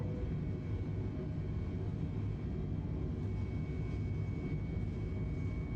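Airliner engines at takeoff thrust in Microsoft Flight Simulator 2020, a steady, fairly faint rumbling roar that holds evenly throughout with no voices over it.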